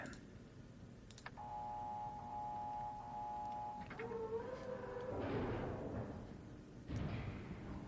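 A button pressed in the Mechanical Age of the Myst video game: a click and sharp tap, then a steady tonal hum of the mechanism running, shifting pitch, followed by a grinding surge and a final clunk.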